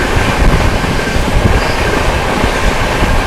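The Vikramshila Express rushes along at about 130 km/h, a loud, dense roar of wheels and rails with rapid rhythmic clatter running continuously and no speech.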